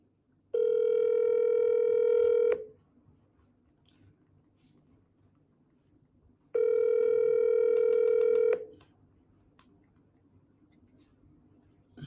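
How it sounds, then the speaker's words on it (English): Ringback tone of an unanswered phone call: two long, even electronic tones about two seconds each, separated by a roughly four-second gap of near silence with faint background hiss. "He's not picking up the phone"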